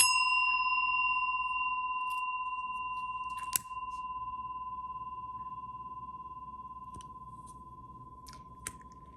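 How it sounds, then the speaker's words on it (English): A small bell rung once for a tarot reading gives a clear, pure ring that sustains and slowly fades over several seconds, with light clicks and handling noises while it decays. "I'm going to ring the bell for additional good juju in 3, 2, 1."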